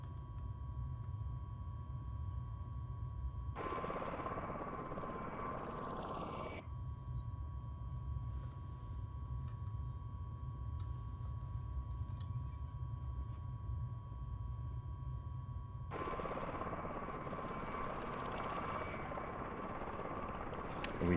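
Tiltrotor aircraft flying in a flight simulator, a continuous low engine and rotor drone with a steady tone above it, rising in two long, brighter surges as throttle changes, with no talking.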